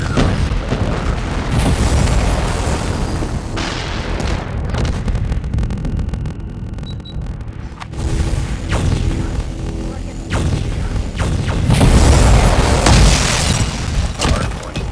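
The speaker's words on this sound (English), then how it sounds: "Friendly predator missile inbound." Predator missile strikes in a multiplayer shooter video game land as a string of loud, heavy booms and rumbling blasts, with a brief quieter lull in the middle before more explosions.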